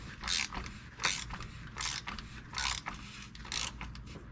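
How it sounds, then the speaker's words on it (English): A special wrench ratchets an oil filter housing snug on a Porsche 911 Carrera (997), producing five evenly spaced bursts of close, bright metallic clicking about a second apart. "special wrench again. Now this does not need to go on very tight."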